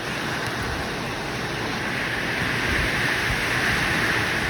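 A dense, constant roar of heavy rain and strong gusting wind in a village, buffeting the microphone with no letup and no voices.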